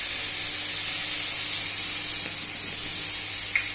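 Turmeric and a cumin-ginger paste sizzle in a pan for hilsa fish, a steady close hiss of frying holding at one level throughout with no voices.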